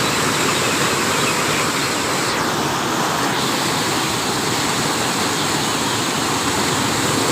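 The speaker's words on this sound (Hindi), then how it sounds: "देखें जी पानी की कितनी रफ्तार है।" Fast-flowing floodwater rushes under a bridge in a loud, constant roaring wash of broadband noise that stays steady throughout, with no voices.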